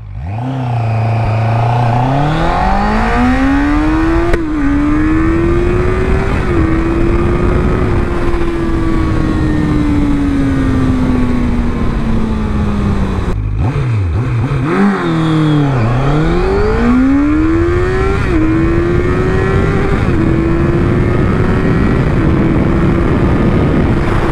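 A 2024 QJMotor SRK 800RR motorcycle engine revs hard through the gears, pitch climbing with each pull, dropping at shifts, then climbing again, loud and close throughout with no talk.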